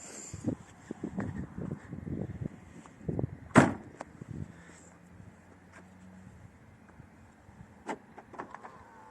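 A Renault Fluence closes its windows and sunroof after two presses on the remote key: scattered clicks and thumps, a sharp snap, and a low electric motor hum for a couple of seconds, all fairly quiet and close.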